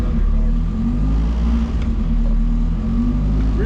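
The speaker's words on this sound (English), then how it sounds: "we got Justin Stewart's hot rod on the dyno" Justin Stewart's hot rod with a wideband-tuned ECU runs on a dyno, its engine droning loud and steady with a low, constant rumble throughout and no talk.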